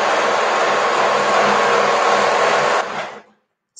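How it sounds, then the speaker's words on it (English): A motor runs at a constant high whine for about three seconds, then winds down and stops, matching a sewing machine stitching a seam on a Lucky Girl top. "I'm going to sew that together right now"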